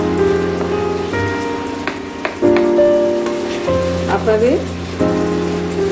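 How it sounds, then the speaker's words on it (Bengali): Ingredients for a Bengali pea-cake curry (koraishutir dhokar dalna) sautéing in a pan give a steady crackling sizzle throughout, with a voice speaking briefly over it and some clinks and stirring noises. "এটা একটু কষিয়ে নিই"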